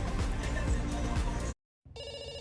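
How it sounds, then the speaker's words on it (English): An electronic telephone ringtone with a bright, steady tone sounds just after a brief silence that cuts off a burst of loud, noisy background sound. "We pick up the phone because it's ringing."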